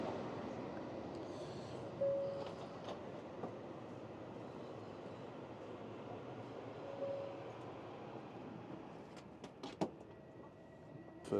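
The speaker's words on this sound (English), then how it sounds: "But we are getting on the bullet train." Steady low rumble and hum inside a Japanese bullet train, with faint clicks and rattles rising toward the end; no talking.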